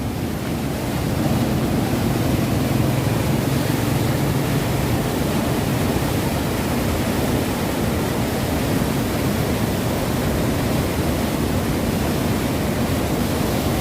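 Fast-flowing river water rushes through the Head Marala barrage beside a long bridge, a steady loud roar of broadband noise with no pauses and no voices.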